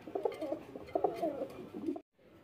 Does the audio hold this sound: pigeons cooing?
yes